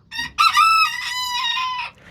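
A rooster crows once, loud and close, a long drawn-out call preceded by a short cluck.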